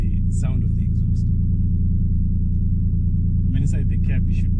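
Steady deep exhaust drone from a Toyota Supra heard from the cabin, loud and continuous, with someone speaking briefly at the start and again near the end.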